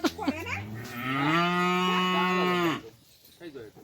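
A cow gives one long, loud moo close by, with brief rustling and shuffling noises before and after it.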